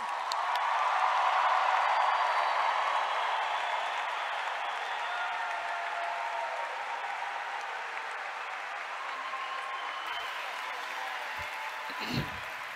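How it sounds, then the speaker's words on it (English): Sustained applause from a large audience honoring May 2022 graduates at a College of Arts and Letters commencement, a dense wash of clapping that starts loud and tapers slightly, with a brief louder burst near the end. "let's give one more round of applause for all of our May 2022 graduates"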